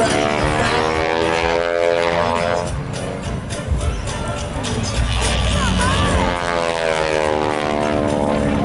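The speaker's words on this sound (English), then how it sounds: "flying a 1940 Stearman, sponsored by California" A 1940 Stearman biplane performing aerobatic loops at the Rumble in the Redwoods airshow, its propeller engine droning loudly with rising and falling pitch as it passes, while an announcer talks over it.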